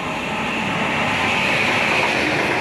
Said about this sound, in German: Jetzt kommen zwei Züge erstmal.